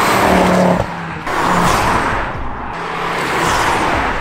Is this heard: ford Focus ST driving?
yes